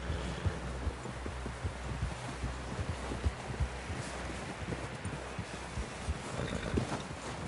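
Horse hooves in Red Dead Redemption 2 thud in a loose, even rhythm under a constant layer of wind, fairly quiet and steady throughout.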